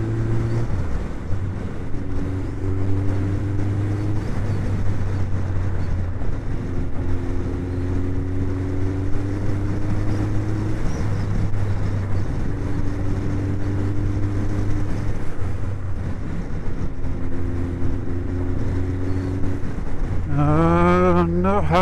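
Suzuki GSX 1400 motorcycle engine lugging at low revs around 2,500 rpm, a steady deep drone with wind rush throughout, rising in pitch near the end as the rider opens the throttle.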